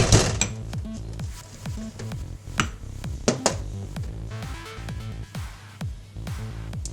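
Nuts being crushed by hand for chocolate balls: a steady series of sharp cracks and knocks over a low rhythmic thumping, close and moderately loud, with no talk.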